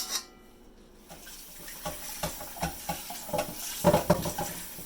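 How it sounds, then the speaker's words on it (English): A wok is washed under running water in a kitchen sink, with a close, uneven splashing and scrubbing clatter that builds toward the end. "Because one thing with wots, you have to wash them immediately, otherwise they'll start to rust on you."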